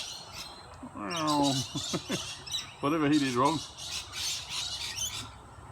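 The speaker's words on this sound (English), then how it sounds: "Mutton birds chasing a parrot." Mutton birds squawk while chasing a parrot: two loud, harsh, wavering calls a couple of seconds apart over outdoor background noise, with someone speaking briefly.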